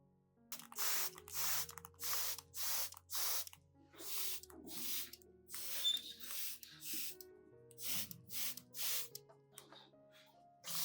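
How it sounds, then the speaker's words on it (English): A hand spray bottle mists a cinnamon and rice solution onto orchid leaves in a rapid series of short, crisp hissing bursts, about a dozen in close succession, with faint background tones between pumps. "Misting with the cinnamon and rice solution helps prevent insects such as thrips and mealybugs."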